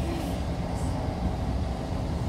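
Passenger train heading toward Bangor, heard from inside the carriage: a steady, close rumble of wheels on rails, with no talk.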